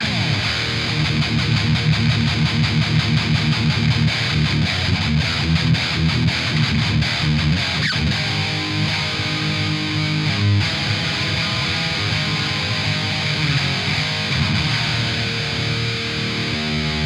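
An LTD EC-01FT electric guitar with a ceramic-magnet pickup plays heavily distorted, dense and continuous, loud and sustained throughout with no talking over it.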